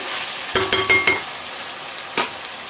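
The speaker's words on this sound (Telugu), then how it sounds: "చికెన్ ఉడుకుతుందండి ఉడకలేదు చూసారా ఆయిల్ పైకి వచ్చేసింది" Chicken curry frying in oil in a large pot, with a run of four quick metallic scrapes and clinks of a spoon stirring against the pot, then one more clink after a pause over a steady soft sizzle.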